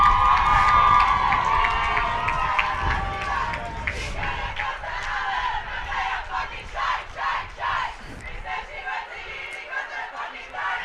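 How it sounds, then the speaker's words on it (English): At a Sheffield Varsity women's rugby union match, the university's female supporters chant loudly in the crowd, their rhythmic group shouting heard from nearby among general crowd noise with talk over it. "The Uni of girls chanting down in the crowd"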